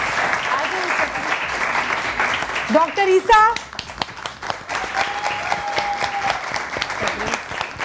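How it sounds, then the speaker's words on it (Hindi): Studio audience applause on a morning television show, a continuous crowd of clapping hands under speech, with a voice rising briefly over it partway through. "ज़्यादा तालियां बजाए ना"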